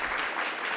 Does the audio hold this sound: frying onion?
no